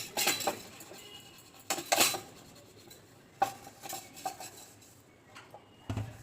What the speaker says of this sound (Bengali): ভালোভাবে ডলে ডলে মেজে নিই।